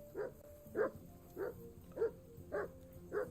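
A dog barking in a video game, six evenly spaced barks about half a second apart, moderately loud over a quiet background.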